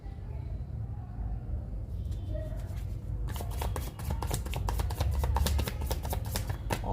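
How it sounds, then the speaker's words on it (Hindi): Tarot cards being shuffled by hand, a crisp rapid riffling flutter that starts after a few quiet seconds and continues steadily, close and clear over a soft room background. "और मैं कार्ड्स ले लेती हूँ आपके लिए।"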